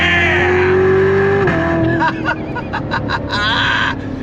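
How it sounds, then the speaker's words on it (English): Chevrolet C7 Corvette Z06 engine pulls hard in first gear, a loud throaty roar climbing in pitch, then dropping off to a rumble under an excited voice and background chatter, heard from inside the car. "the Z06 sounds better than the C8 Stingray. It just does. It's louder. It's got that throatier sound to it."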